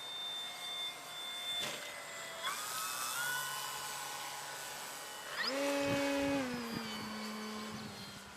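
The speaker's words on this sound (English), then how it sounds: "And you can tell when I go to full throttle." A small RC airplane engine whines overhead at a flying field, its pitch shifting as it banks, then surging loud and rising as it goes to full throttle, heard alone without talk.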